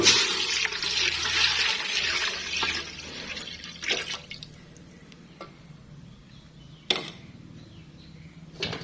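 Water poured into a pot for Thai bamboo shoot curry, a loud rushing pour for about three seconds that tapers off, followed by quieter splashes, clinks and a few sharp knocks from the pot.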